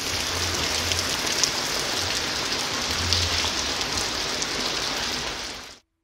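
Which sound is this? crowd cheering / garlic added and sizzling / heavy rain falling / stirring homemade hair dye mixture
heavy rain falling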